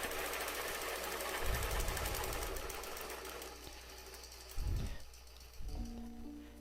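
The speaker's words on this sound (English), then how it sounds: "It's helpful to take an extra stitch in each one of those points to keep it from stretching across the point and pulling the bobbin thread up to the top." Domestic sewing machine stitching around a template on a giant dahlia quilt, a steady close rapid needle chatter running throughout, with a few heavier thumps near the end.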